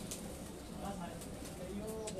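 Pigeons, including young birds, coo softly in rooftop loft coops, the low murmurs faint and mixed under a person talking nearby.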